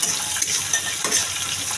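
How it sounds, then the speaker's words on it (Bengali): Taro stolons and shrimp frying in a pan, a close, steady hiss and crackle of oil that continues without pause and with no talking. "লতি চিংড়ি মাছটা ভাজা হয়ে গেছে।"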